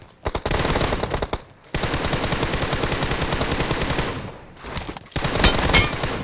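Rapid automatic gunfire rattles in PUBG Mobile, with long, dense bursts of shots broken by brief pauses, loud and close.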